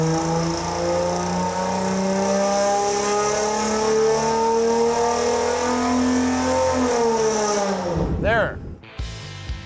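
A turbocharged Chevy 292 straight-six revs hard and steady on a dyno, loud and close, its pitch climbing gradually before the brake drags it down and it cuts off sharply near the end.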